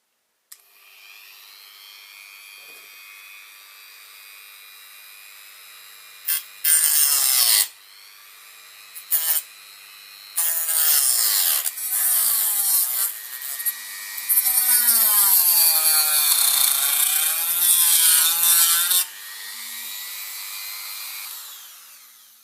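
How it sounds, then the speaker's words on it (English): A wood-cutting Dremel rotary tool whines continuously up close while cutting flexi coils off a Class 86 model locomotive, its pitch wavering and bursting into harsher grinding bursts as the bit bites into the part. "This is yet again the wood cutting Dremel."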